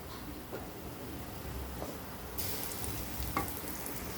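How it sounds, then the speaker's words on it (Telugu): Garlic chili paste frying in oil in a pan on medium-low flame for an egg and garlic fry, a steady soft sizzle throughout with faint scraping stirs, brightening partway through. "ఈ వెల్లుల్లి మిక్సింగ్ అయితే పచ్చివాసన పోయేంత వరకు వేయించుకోవాలండి"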